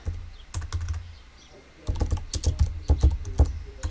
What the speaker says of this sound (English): Oh my goodness, I can't type today.